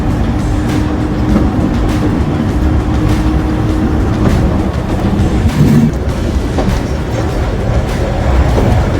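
Volk's Electric Railway, a 19th-century seaside electric train, running with a loud continuous rumble and rattle of wheels on track, close and steady, with periodic clicks and clunks from the carriage.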